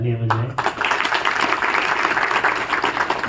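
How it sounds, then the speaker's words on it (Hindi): Sustained applause from a large audience at a Mahashivratri festival gathering, dense clapping that swells in right after a brief voice and holds steady and loud to the end. "तो माताएं खुद के लिए जोरदार तालियां बजाएं।"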